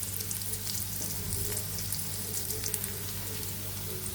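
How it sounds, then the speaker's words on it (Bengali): Chopped garlic fries lightly in a pan with onion, giving a steady soft sizzle close by, with a few faint clicks and no talking. "রসুনগুলো হালকা একটু ভেজে নিব, পুরোপুরি ভাজবো না।"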